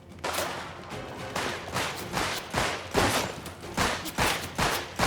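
Rapid bursts of video game gunfire from a Mafia match, loud and close, repeating in quick volleys across the whole stretch with no talk.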